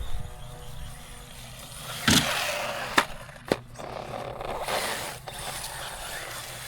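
An Arrma Grom Mojave 2S brushless RC car running over rough ground and grass, its motor whining at close range, with a few sharp knocks from landings and bumps.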